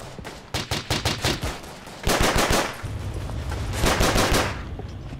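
Rapid bursts of gunfire in the WWI shooter Verdun, fast repeated shots in clusters followed by sustained rattling volleys, loud and close with no talk over them.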